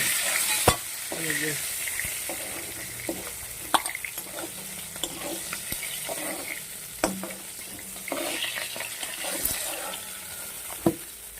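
Fish frying and being turned in a hot wok of oil, a steady close sizzle broken by sharp scraping stirs and occasional clatter, with no voices.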